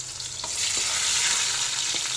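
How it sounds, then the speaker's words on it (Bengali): Garlic and green chillies fry in hot oil, a loud, dense sizzle that swells after a moment and stays steady, with a few soft stirring taps, close up. "রসুন আর কাঁচা লঙ্কা ফোড়নে দিয়ে দিলাম"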